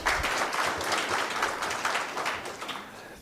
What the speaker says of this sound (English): Another round of applause for Samuel.